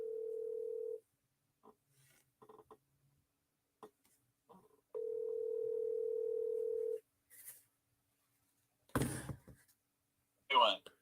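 A telephone call placed from speed dial: a steady dial tone sounds, a few faint keypad presses follow, then a second long tone, with brief clicks and handling noises at the end and no voices.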